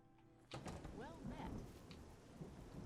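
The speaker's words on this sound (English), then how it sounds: "I love a thunderstorm." In the video game Oblivion, a sudden thunder crack breaks over steady rainfall of a thunderstorm, then the rain keeps hissing with low rumbling, while faint game voices sound underneath.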